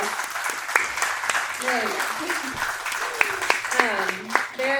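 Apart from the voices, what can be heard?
church congregation applause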